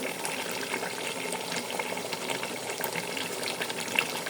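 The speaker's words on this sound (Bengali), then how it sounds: "এখন দিয়ে দিলাম চাল" Soaked, washed rice tipped into a pot of oily browned meat: a steady, close sizzle and bubbling hiss runs evenly throughout with faint scraping, no voices.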